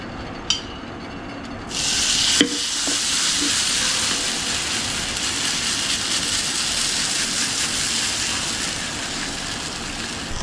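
Oil poured into a hot pan for poha chilla bursts into a loud, close hiss after a few clicks, then settles into a steady, bright sizzle that continues without talking.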